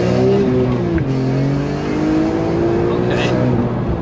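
An engine with an SMG gearbox revs hard in first gear, its note climbing steadily and loudly through the gear with a brief dip partway, close to the car.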